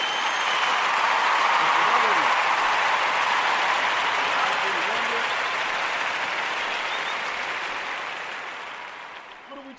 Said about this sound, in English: I want to give the Kuumba babies a round of applause once again.